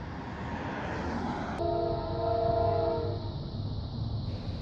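Freight train loaded with wood rolls past at close range, a steady heavy rumble with a sustained horn-like tone sounding partway through; no voices.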